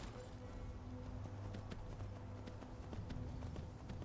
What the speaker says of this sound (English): This is my horse. My horse is amazing.